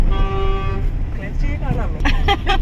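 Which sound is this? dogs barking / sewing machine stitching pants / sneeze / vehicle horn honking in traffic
vehicle horn honking in traffic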